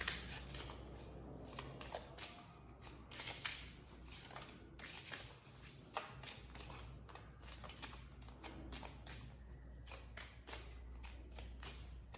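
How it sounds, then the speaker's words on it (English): Tarot cards being shuffled and picked by hand, a continuous close riffling and flicking of card stock with a few sharper snaps, with no talk over it. "Let me pick some cards from here."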